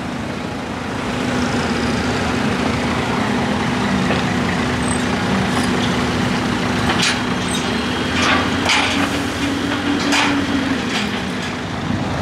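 A car transporter truck engine drones steadily nearby as the rig moves up for the next car, a constant heavy hum with a few short clanks and hisses scattered over the top.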